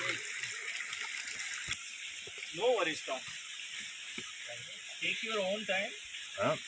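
Water runs continuously down from Udayagiri hill as a faint, steady rushing wash, with several voices talking nearby over it.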